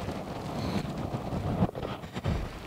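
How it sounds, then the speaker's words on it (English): Wind gusting across an open field during a goose hunt, a loud, continuous buffeting rumble with a couple of sharper gusts hitting the microphone; no one speaks. "the wind shifted on us a full 180 degrees"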